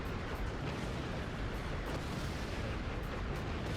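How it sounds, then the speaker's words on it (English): Giant Clank fires wrench bombs in a Ratchet & Clank video game, a dense, unbroken roar of booming blasts and rumbling explosions that stays loud and steady throughout, with no voices. "He's firing mini wrenches and wrench bombs."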